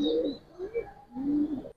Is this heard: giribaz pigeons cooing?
yes